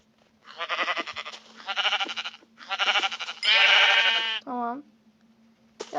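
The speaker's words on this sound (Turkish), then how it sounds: "Oo burada koyun yığını var" Several loud, drawn-out sheep bleats in a row with short gaps, Minecraft Pocket Edition game sound effects over a constant low hum.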